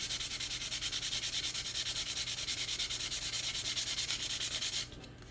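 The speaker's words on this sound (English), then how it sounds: "I'm just going to roughen up 1 inch up all the way around just to take the shine off the tube" A model rocket body tube is hand sanded to take the shine off, a steady, close scratchy rubbing with an even back-and-forth rhythm that stops abruptly near the end.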